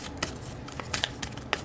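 Tarot cards shuffled loosely by hand, several soft papery riffles and slaps spread irregularly, close and moderately quiet, no speech.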